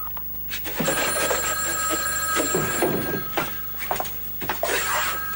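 An old-style telephone bell rings in a sustained metallic trill, with a few thuds and shuffling noises around it in a room.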